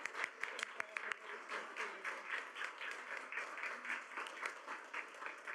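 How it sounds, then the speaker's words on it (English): A school board meeting audience applauds the Student of the Month in a steady, moderately quiet round of clapping that holds throughout, with a few sharper claps near the start. "Let's give a round of applause to our Student of the Month"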